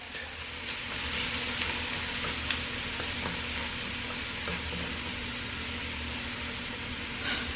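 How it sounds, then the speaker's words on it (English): Carrots and celery sizzle steadily in melting butter in a pan, a soft, even frying hiss with faint crackles, continuous and close with no talking. "I'm going to put my carrots and celery. In there while I let that butter melt."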